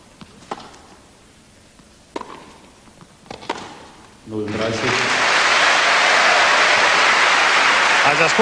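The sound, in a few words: frenetic cheering and applause from tennis audience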